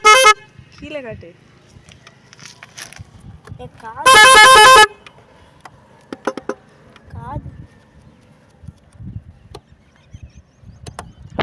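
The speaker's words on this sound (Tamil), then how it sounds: "இதுதான் வந்து ஹார்னோட சவுண்டு" A vehicle horn blasts loudly for a short burst, with a briefer toot at the start, between nearby talking and faint handling noises.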